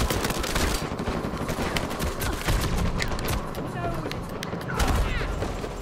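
Rapid bursts of gunfire from Uncharted 4 multiplayer crackle loudly and almost continuously, with overlapping shots and a few louder booms near the end.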